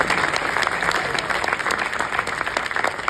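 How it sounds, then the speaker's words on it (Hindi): Audience applause for a poet at a Hindi hasya kavi sammelan poetry gathering, a dense steady round of many hands clapping throughout, close and loud. "और क्या एक बार तालियां मुमताज जी के लिए हो।"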